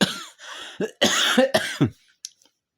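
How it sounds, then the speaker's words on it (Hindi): A person coughs several times in quick, harsh bursts, loud and close, followed by a short pause and a faint final sound. "माफ करना बाबू, खांसी।"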